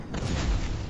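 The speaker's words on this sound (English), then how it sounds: "And then four explosions right on this guy might kill him?" A rapid burst of booming explosions in the sci-fi video game Space Grunts, loud and rumbling throughout with a deep low thump midway.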